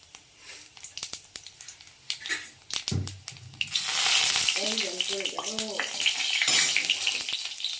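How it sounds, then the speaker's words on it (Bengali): Nigella seeds and a dry red chilli are dropped into hot mustard oil in a kadai and burst into a loud, hissing sizzle partway through. A voice talks before and during the sputtering. "কড়াতে সর্ষের তেল দিলাম এবার আমি একে একে কালো জিরে ফোড়ন দেবো একটা শুকনো লঙ্কা"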